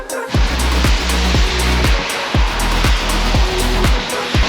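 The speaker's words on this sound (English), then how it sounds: "There's about 4 lanes of traffic buzzing by me, so it's super noisy right now." Four lanes of traffic rush past on Brisbane's Story Bridge in the rain, a loud continuous wet hiss broken by repeated heavy whooshes of vehicles passing close by, one after another.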